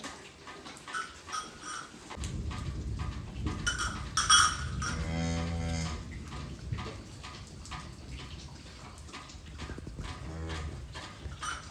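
A newborn female calf moos a few times nearby, drawn-out bleating calls with pauses between them, over quiet outdoor background in rainy weather; no talking.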